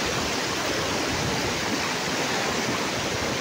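A stream of river water keeps rushing loudly and steadily, close by, as if someone is crossing at the water's edge. It sounds like a broad, even hiss with no voices.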